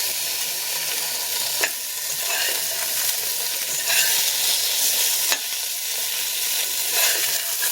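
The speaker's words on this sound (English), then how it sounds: "So next up is the chopped onions." Chopped onions hit a hot pot for a vegetarian curry, giving a loud, close, continuous frying sizzle broken by a few sharp stirring clicks.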